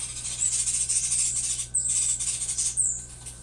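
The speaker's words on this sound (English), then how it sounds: "Do you hear those birds?" High, rapid chirping and squeaking from young birds nesting behind a clothes dryer comes in repeated bursts, muffled and fairly close, with no talking.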